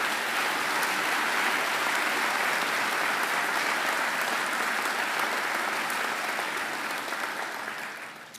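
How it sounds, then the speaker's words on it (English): Sustained audience applause at a university graduation ceremony, honoring a singer; dense steady clapping from a large crowd fills the hall throughout, tapering slightly at the end. "I think she deserves another great round of applause."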